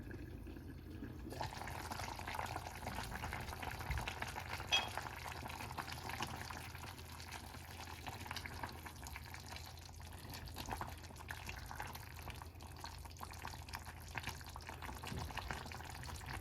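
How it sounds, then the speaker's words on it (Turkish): Okra and chickpea stew in olive oil boils in a pot with a steady, soft bubbling and gurgling that carries on evenly throughout without any talking. "Yemeğimiz kaynamaya başladı."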